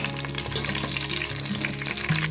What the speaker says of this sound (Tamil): கொஞ்சம் ஃப்ரை ஆகட்டும்.